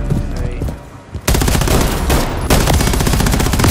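Rapid automatic gunfire from a military shooter game, Call of Duty Modern Warfare III, bursts in loudly and runs continuously after a quieter start, with game voices speaking underneath.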